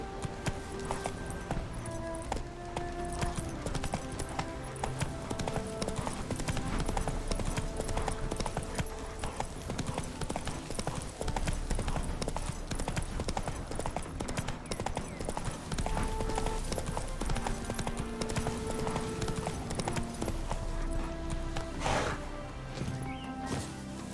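Horse hooves clip-clop in a steady, continuous rhythm in The Witcher 3 game, a galloping mount heard throughout under a bed of music and ambient sound.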